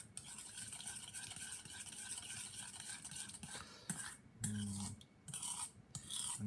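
Char siu marinade being stirred and mixed in a bowl, a steady close scraping and rubbing that runs continuously, with a few brief knocks and pauses near the end.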